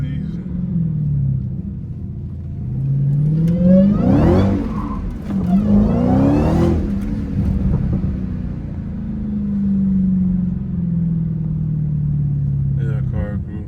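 A Dodge Hellcat revs hard while sliding through neighborhood turns, the engine rising and falling in loud surging pulls with tire noise, under steady talk from inside the car.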